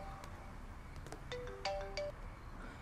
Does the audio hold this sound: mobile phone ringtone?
yes